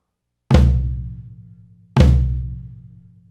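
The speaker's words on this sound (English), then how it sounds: "Another way to get a big sound on a single beat is to move the grace note to the high tom." A drum flam with its grace note on the high tom of a drum kit sounds twice, each a sharp, loud hit followed by a ringing tom decay, evenly spaced and heard alone.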